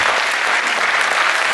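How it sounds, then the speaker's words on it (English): A loud, dense burst of audience applause for a child's treehouse at a university weekend event, many people clapping together in a short continuous roar. "Give Emma's treehouse a big round of applause"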